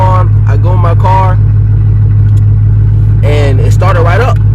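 A BMW's engine runs with a steady, loud low rumble after its battery connection was fixed, holding constant while a person talks over it in bursts.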